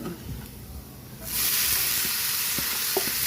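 Chicken dropped into a hot pan with toasted aromatics sets off a sudden loud sizzle after a quieter moment, then a steady bright hiss that carries on to the end, close by.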